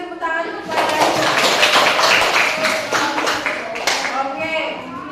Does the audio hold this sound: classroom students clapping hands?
yes